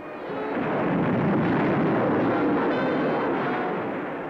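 A small cartoon bomb in Batfink going off as a broad, rumbling blast that swells and then slowly fades over several seconds, loud and alone.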